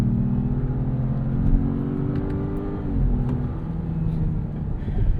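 A 2026 Jeep Grand Cherokee with the Hurricane turbo engine and ZF 8HP eight-speed automatic pulls hard under acceleration, a steady rumbling engine note rising and dipping briefly at gear changes, heard from inside the cabin.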